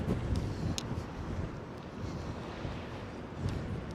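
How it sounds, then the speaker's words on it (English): Steady wind buffeting the microphone on a New York City street near 34th Street, a continuous low rumble with brief gusts, no voices. "Wow, this wind over here sucks. It's really windy over here."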